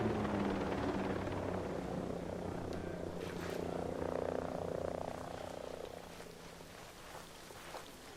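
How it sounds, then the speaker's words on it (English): Enemy helicopter in the tactical shooter Ghost Recon Breakpoint, a steady low rotor drone that holds throughout under game ambience before easing slightly near the end. "Spotted an enemy chopper."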